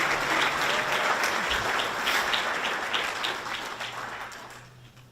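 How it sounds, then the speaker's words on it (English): Banquet audience at a sports hall of fame ceremony claps in a round of applause, dense clapping that starts strong and gradually thins and fades toward the end. "Could we have one more round of applause?"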